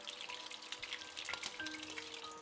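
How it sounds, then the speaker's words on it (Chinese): Boiled pork belly for twice-cooked pork frying in a pan, a faint, steady sizzle with scattered crackles and pops of spitting oil, heard alone without talk. "煎的过程中就可能会有油溅出来"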